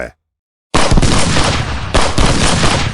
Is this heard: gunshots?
yes